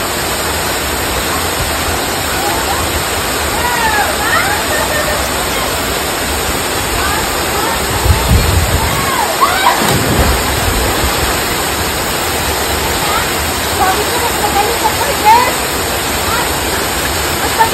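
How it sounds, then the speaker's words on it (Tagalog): Constant broad rushing of a waterfall on a hiking trail stream in Hong Kong fills the whole clip, steady and loud, with faint voices briefly audible beneath it. "And then waterfalls."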